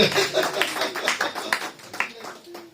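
A church congregation claps and applauds during a Sunday worship service, with scattered hand claps and shouts under a continuous crowd noise, and voices calling out over the clapping.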